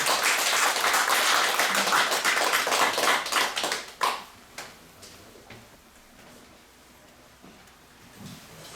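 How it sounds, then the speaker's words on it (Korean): An audience in a lecture room claps to welcome a lecturer, a dense burst of applause for about four seconds that then thins out into a few last claps before the room goes quiet. "오상희 선생님 박수로 맞이하겠습니다"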